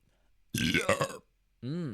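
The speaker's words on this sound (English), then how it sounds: "They do give me some good burps, I'll tell you what, man." A loud, close man's burp after eating Grape-Nuts cereal, followed by a second shorter, deep belch after a brief pause.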